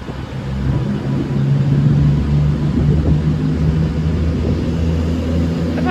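An Avanti West Coast Class 390 Pendolino, unit 390155, pulls away from a platform at Stoke-on-Trent, a steady low electric rumble and hum holding throughout at close range with no talk.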